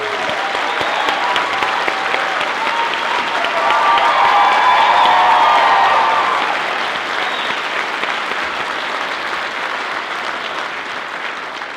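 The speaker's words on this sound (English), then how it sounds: "let's have a big round of applause for all the teachers" An audience at a high school honor band concert applauds steadily for about twelve seconds, swelling in the middle, with scattered cheers under the clapping.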